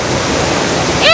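Floodwater rushes along a street in Junagadh as a loud, constant roar with a steady, dense flow, and a brief high whistle rises near the end.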